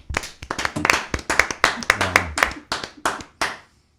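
Sharp, steady handclaps repeating in a quick even rhythm, roughly a dozen claps, close and fairly loud, then stopping.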